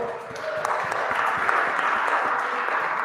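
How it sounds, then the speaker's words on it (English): Studio audience applause during a late-night talk show as a lineup of performers is brought onstage, a steady dense wash of clapping that holds evenly throughout without a break. "Let's give them a hand."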